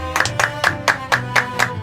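Rhythmic clapping at an even pace, roughly eight sharp claps in under two seconds, close and clear with music underneath.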